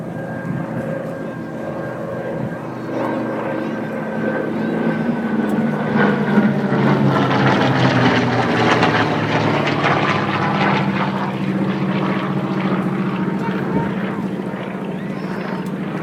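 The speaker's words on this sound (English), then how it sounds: "The big round engine of the Dauntless. The larger round engine coming in of the Avenger." Heavy radial-engine WWII warplanes, including a Dauntless and an Avenger, roar past at an airshow, a broad steady drone rising and holding, with a voice talking over it.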